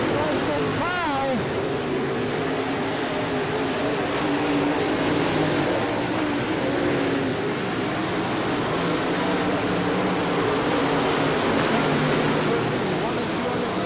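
Race cars roar around a county fair speedway in Jackson County, a dense continuous engine drone with a brief rising whine early on, while an announcer talks over the track noise.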